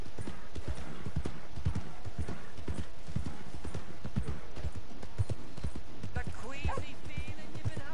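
A horse gallops in the video game Red Dead Redemption 2, a dense, steady run of loud hoof beats close by, with a whinny-like cry near the end and someone talking over it.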